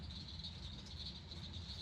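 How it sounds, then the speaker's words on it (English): Outdoors at a rural spot, frogs and other small creatures keep up a steady, high, shimmering chorus, moderately distant and unbroken, over a low rumble of background noise, with no one talking. "We'd just sit out here and enjoy the birds and the frogs."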